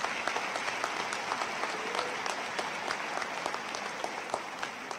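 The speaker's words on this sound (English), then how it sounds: "Please give these talented students a round of applause" Steady, even applause from a commencement crowd for Honors College students at a 2019 college graduation, heard fairly distant in a large hall and continuing unbroken throughout.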